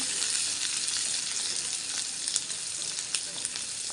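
Onion and green chili sauté in a pan with a steady, even sizzle, and faint occasional clicks of stirring sit within the constant hiss.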